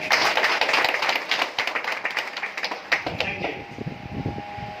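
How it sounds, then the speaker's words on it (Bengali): A crowd at a motivational gathering claps loudly, a dense burst of many hands that thins into scattered, fading claps toward the end. "নিজেদের জন্য একবার জোরে হাততালি।"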